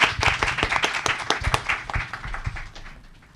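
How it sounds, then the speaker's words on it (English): A symposium audience at a languages careers event gives a speaker a final round of applause: close, lively hand claps from a small group that thin out and fade away at the end. "Final round of applause for him."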